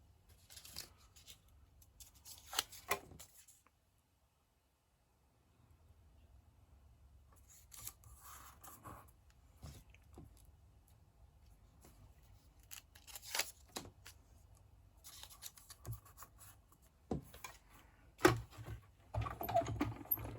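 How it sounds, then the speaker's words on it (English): Scissors snip around a paper card by hand, giving short crisp cuts in scattered bursts with quiet pauses between, close and fairly faint. "I wish this one die cut out, but it doesn't, so we're going to have to fussy cut it."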